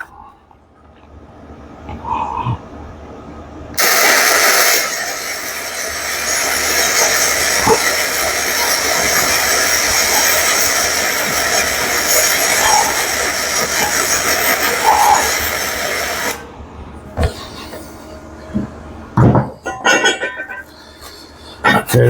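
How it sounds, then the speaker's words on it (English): Flux core welding with a BestArc MIG 145 at 125, a steady loud crackling hiss that starts abruptly, holds for about twelve seconds, then cuts off, with quieter shop noise before and after. "I'm holding my breath while I'm welding"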